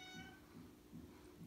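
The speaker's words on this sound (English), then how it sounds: "If you hear a cat, that's our little cat." A small pet cat meows faintly indoors, a few soft repeated cries under a quiet background hum.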